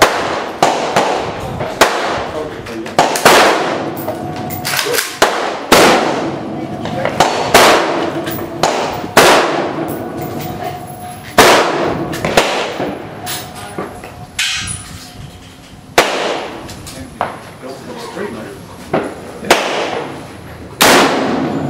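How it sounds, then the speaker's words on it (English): Repeated loud, sharp gunshots from a Saiga rifle fired at a bench toward targets, about a dozen cracks in uneven succession, each with a booming tail, and a voice speaking faintly between shots. "What we're going to do is first we're going to go ahead and shoot the left target."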